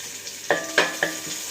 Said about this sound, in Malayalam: അരിഞ്ഞു വെച്ചിരിക്കുന്ന ഇഞ്ചി, പച്ചമുളക് ഒന്ന് വഴറ്റും.